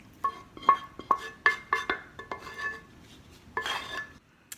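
Ceramic bowl and utensil clinks as sautéed shiitake mushrooms in oyster sauce are added to a shrimp and pork wonton soup, a series of sharp close taps and scrapes at an uneven rhythm.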